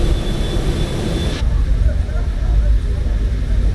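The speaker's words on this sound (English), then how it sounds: "Let's do rolling takeoff" Airliner engines roar steadily in Microsoft Flight Simulator during a rolling takeoff, a loud continuous rumble with a high whine that drops away partway through.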